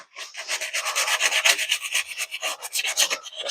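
Sandpaper rubbed by hand across a surface with very light pressure, a quick series of close, dry scratchy strokes in an uneven back-and-forth rhythm with no talking.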